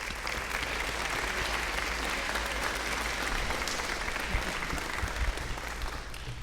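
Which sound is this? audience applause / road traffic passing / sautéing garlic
audience applause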